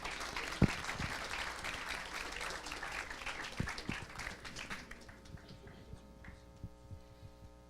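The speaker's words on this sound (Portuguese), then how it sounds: "Uma salva de palmas para o nosso reitor." An audience at a university event opening applauds the rector, dense clapping that fills the room and then thins into scattered claps over a low electrical hum.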